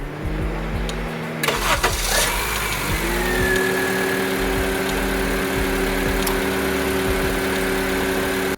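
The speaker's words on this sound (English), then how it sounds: "turn on the vehicle and watch the belt spin" A Honda Civic engine starts and settles into a steady, loud idle, humming evenly with its newly fitted serpentine belt spinning, close by and with no talk.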